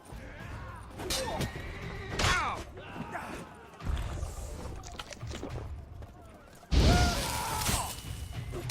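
Horses neigh and whinny in The Witcher 3 amid a loud game scene, with crashes and whooshes; a sharp, loud whinny bursts out near the end over the busy mix.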